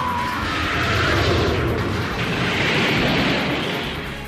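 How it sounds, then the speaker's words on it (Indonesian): A loud, sustained roaring blast with a deep rumbling low end, swelling and holding steady for several seconds, like an anime Kamehameha energy blast from Dragon Ball GT. "Baby pun segera menembakkan jurus Kamehameha yang dimiliki oleh Gohan"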